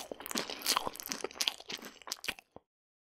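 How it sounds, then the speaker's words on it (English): Crunchy chewing up close, a rapid series of loud crisp crunches and bites that stops abruptly into silence. "Dad couldn't respond as he was fervently chewing."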